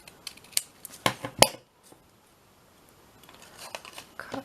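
Scissors snip through paper being trimmed down for handmade journal cards, a cluster of sharp, close snips and crinkles in the first second and a half, then near quiet before a few faint rustles return.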